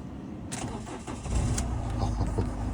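A 2010 Peugeot Bipper van's 1.4 HDi diesel engine cranks and catches, settling into a loud, close, rumbling run with no talk.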